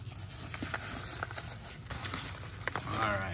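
A mail package being cut open, close crinkling and tearing of packaging material in short irregular bursts, with a faint rising squeak near the end.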